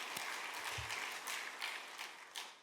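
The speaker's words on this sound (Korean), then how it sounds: "오늘 새벽이지만 박수 한번 우리 한번 치겠습니다." Faint congregational applause at an early-morning Saturday church service, a steady wash of many hands clapping at a distance for a few seconds with no talking.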